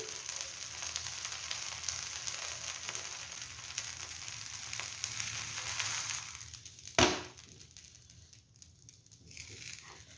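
Uttapam roasting on a pan gives a steady, soft sizzle and crackle for several seconds. A sharp knock or scrape follows, then the frying sound drops quieter.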